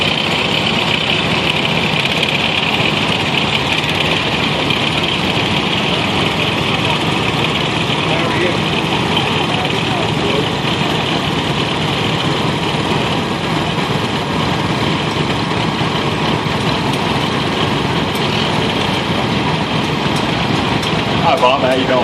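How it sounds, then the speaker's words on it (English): A 1940 4MO-H antique tractor engine running in an agricultural expo parade, a steady loud rumbling idle that holds throughout, with talk heard over it. "The next tractor we have is the 1940 4MO-H."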